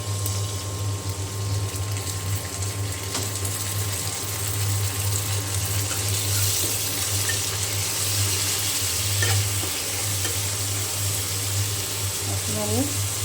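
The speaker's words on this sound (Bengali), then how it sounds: "অল্প পরিমাণে একটু পানি দিয়ে দিলাম।" A little water goes into a pan of fried onions for a hilsa and taro curry, giving a steady, close hiss and sizzle that runs the whole time, with faint talk beneath.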